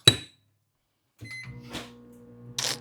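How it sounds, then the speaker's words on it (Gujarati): A microwave oven heating milk: a single sharp beep, a short silence, then the low steady hum of the oven running with a few faint clicks and knocks. "ચલો દૂધ ગરમ કરી દઉં માઇક્રોવેવમાં"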